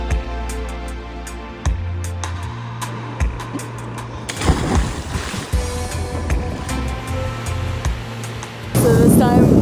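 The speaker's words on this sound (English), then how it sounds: "Look at these waves out here." Ocean waves slosh and splash around a boat off the Galápagos Islands, a continuous broadband wash with engine rumble beneath and bursts of louder spray, close and steady.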